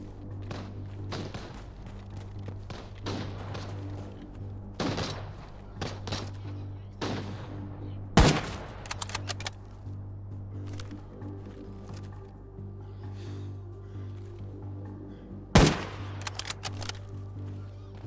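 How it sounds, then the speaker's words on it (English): Scattered gunshots in the video game Arena Breakout, a few sharp loud reports standing out over a steady low hum and quieter thuds and taps, spaced irregularly across a long stretch. "I heard shots once more."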